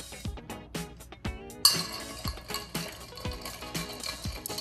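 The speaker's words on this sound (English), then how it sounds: "we are gonna give it some ice and give it a stir" Ice stirs in a mixing glass for a Manhattan cocktail made with sweet red vermouth and bitters, giving quick repeated glassy clinks and rattles close up at an even rhythm, with no talking.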